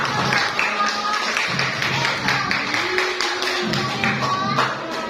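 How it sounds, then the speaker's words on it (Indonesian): A classroom audience of physics teacher trainees claps for a presenting discussion group, a steady patter of close, moderately loud hand claps with a few voices murmuring underneath. "tepuk tangan untuk"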